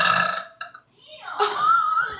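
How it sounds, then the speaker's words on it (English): A loud, drawn-out burp from a person, ending in a gap, followed by a second long, rising belch, both close and clear with a brief voice between. "Someone was asking for you to burp."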